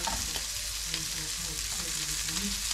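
Shrimp sautéing with garlic in a hot pan give a steady, close sizzle and crackle while being flipped, with soft scraping stirs and small pops throughout.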